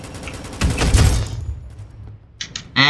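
An RPK machine gun rips off a fast, loud burst of automatic fire in a Roblox zombies game, then falls quiet before a couple of short electronic beeps and a final sharp tone.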